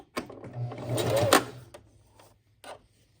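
Sewing machine reversing to double-stitch back ties, a short close whirring run of stitching followed by a couple of brief mechanical clicks, no talking.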